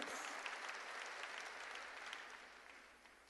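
Applause from a church congregation during a sermon, a steady dense wash of many hands clapping that runs unbroken throughout and fades slightly toward the end.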